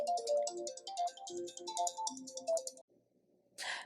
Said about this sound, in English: You know, when you working hard like this on YouTube, that's when your phone ring.